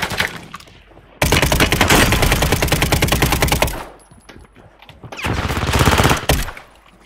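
Gunfire in Call of Duty Warzone: long loud bursts of rapid automatic fire, a sustained stretch of several seconds and then a second shorter burst, with brief lulls between and no talk.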